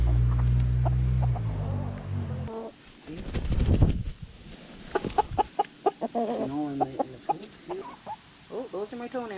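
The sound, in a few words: chicken clucking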